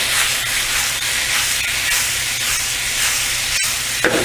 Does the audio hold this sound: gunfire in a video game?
no